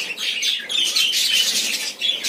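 A colony of budgerigars (Australian parakeets) perched on their nests chirps in dense, overlapping tweets and squawks, close and lively, with brief dips between bursts and no talk.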